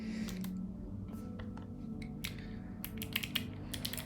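Fingers type on a computer keyboard in quick, uneven bursts of light clicks with short pauses, close and fairly quiet, with no voices.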